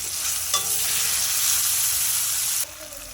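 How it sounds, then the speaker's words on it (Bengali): Tomatoes and green chillies fry in a pan of spice paste, giving a steady loud sizzle with stirring scrapes. About half a second in there is one brief clink, and near the end the sizzle drops noticeably quieter. "টমেটোটা ভালো করে ভাজা হয়ে গেছে।"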